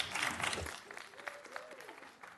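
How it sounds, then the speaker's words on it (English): Applause and cheering at the close of a planning and zoning commission meeting, a burst of clapping that fades within a second, followed by faint room noise and a few voices. "That was an appropriate time to cheer."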